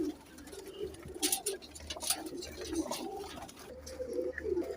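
Large pigeons kept in a loft coo in soft, repeated throaty calls, several birds overlapping at close range, with a few sharp flutters and wing claps among them.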